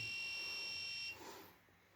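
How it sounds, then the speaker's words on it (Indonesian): An electronic buzzer on a microcontroller circuit with a magnetic door switch sounds a steady, shrill continuous tone for about a second, then cuts off, leaving quiet room noise. "maka buzzer akan berbunyi seperti ini"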